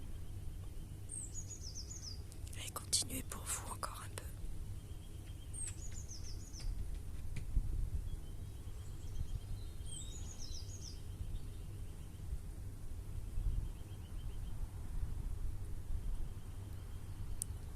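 Birds singing outdoors, with short, high chirping phrases repeating every few seconds. They are faint and distant in a quiet setting while a calm voice speaks softly.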